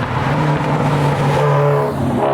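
A turbocharged Subaru Outback XT wagon, tuned to about 450 wheel horsepower with a big turbo, pulls hard through corners. The engine drone is loud and steady, and its pitch climbs near the end.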